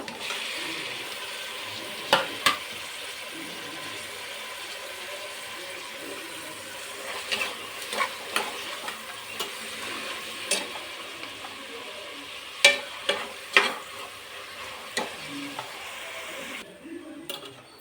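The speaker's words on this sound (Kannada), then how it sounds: "ಎಲ್ಲ ಫ್ರೈ ಆಗ್ತಾ ಇದೆ. ಇನ್ನೊಂದು 5 ನಿಮಿಷ ಹುರ್ಕೊಳ್ಳೋಣ." Tomato, mint and coriander fry in a pan for palak pulao: a faint, steady sizzle broken by scattered sharp clicks of a spatula stirring, with no talking.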